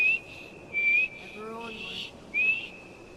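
Whistling in the video game Skyrim: a few short, clear, high whistled notes come in distinct bursts, some sliding upward, with a brief buzzy tone in the middle and quiet game ambience between.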